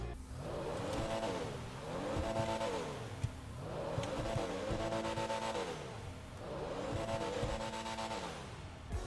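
Pfister Comet S2 sports car in GTA Online revving repeatedly: four rising-and-falling engine sweeps in a steady cycle, each climbing to a high whine before easing off, fairly faint, no talking.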